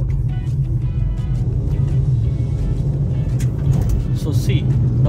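Renault Kiger CVT car driving in normal mode, steady mid-level engine and road rumble inside the cabin with a few faint clicks near the end.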